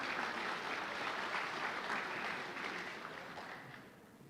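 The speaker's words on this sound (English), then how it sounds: "So a round of applause for Pete, please." Audience applause at a Bronco athletic hall of fame ceremony, a full, steady wash of clapping from a crowd that holds evenly before gradually fading toward the end.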